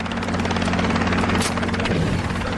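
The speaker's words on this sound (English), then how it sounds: "Sedating a fast-moving target from a helicopter would be a serious test of Lindsay's marksmanship." A helicopter flies overhead during an aerial buffalo darting operation, its loud, steady rotor thump and engine whine filling the air continuously.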